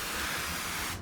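A 5L pressure sprayer set to spray mists water in a brief, faint, steady hiss that stops abruptly at the end.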